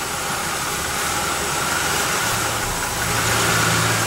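A car engine idles with a steady mechanical hum, its tone shifting partway through as the idle changes from a vacuum leak, close up with no talking.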